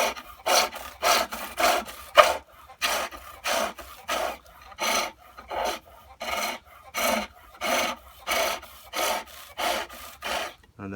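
Steady, rhythmic scraping strokes of a tool tapering a wooden garden dibber on a pole lathe, each cut rising and falling with the back-and-forth spin, close and fairly loud, repeating about every half second.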